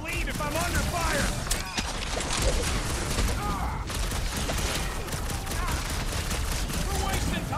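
Rapid gunfire in the video game Marvel's Guardians of the Galaxy, dense crackling bursts and impacts with game music, filling the scene under shouted voices.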